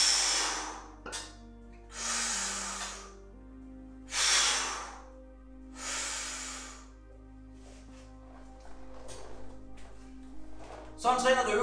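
Sharp, loud exhalations during a dumbbell shoulder press, four forceful breaths spaced about two seconds apart, then quieter breathing and faint movement noise, heard alone and close.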